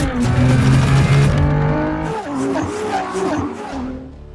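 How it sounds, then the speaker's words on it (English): Heavy, fast race cars skid with squealing tires and revving engines in a movie action scene, loud and close, the screech tapering off as the roar continues. "These cars are heavy and fast."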